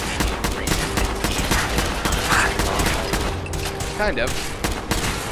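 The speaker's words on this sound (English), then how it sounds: "Let's try this assault rifle." Rapid assault rifle fire in Fallout 4, a dense sustained burst of repeated shots filling the scene, with a brief spoken voice over the gunfire.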